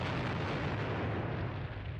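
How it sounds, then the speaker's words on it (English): Heavy artillery barrage in Squad Battles: Red Victory, fighting at Ponyri, a dense continuous rumble of explosions blending into one loud, steady roar with no clear gaps, nobody speaking. "they're opening up some pretty heavy barrages here"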